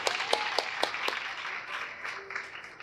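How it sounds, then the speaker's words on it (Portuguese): A church congregation applauds in a brief, moderately distant burst of clapping that fades over a few seconds into a softer patter. "Aplauda a sua oração, irmão."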